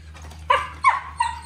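A Golden Retriever or Australian Cattle Dog barks three times at chickens, short sharp yips spaced apart, fairly close against a low background hum.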